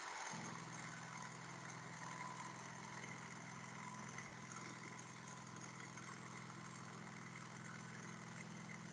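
A truck engine idles and rumbles steadily during slow maneuvering, heard from a moderate distance as a constant low drone with no pauses.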